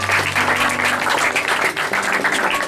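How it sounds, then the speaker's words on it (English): Audience applause for the third-place winner at a 2012 debate competition, a dense steady wash of clapping filling the whole moment at close range with no talk over it. "clap for Mr. Mohsin"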